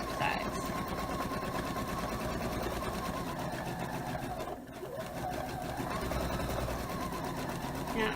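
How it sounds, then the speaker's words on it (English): A sewing machine runs steadily, stitching around all four sides of a memory pillow made from a shirt. The motor whirs close and loud, pausing briefly midway before carrying on. "we're just going to sew all the way around 4 sides."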